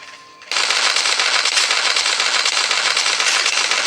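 A gun turret in the survival game Last Day on Earth opens fire abruptly after a brief quiet moment, then blasts in a loud, dense, unbroken rattle of rapid shots that holds steady to the end.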